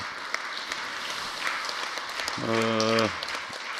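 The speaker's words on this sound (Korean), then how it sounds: "다시 한번 우리 수고하셨다고 박수해 주시면 고맙겠습니다" Audience applause at a church worship-service guidebook presentation in Korea, a steady broadband patter of many hands clapping throughout, with a brief voiced cheer or tone rising over it near the end.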